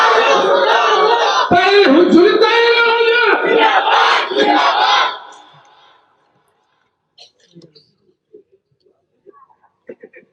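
Crowd at a religious sermon shouts slogans in loud unison, a dense roar of many voices lasting several seconds before cutting off, followed by faint scattered sounds.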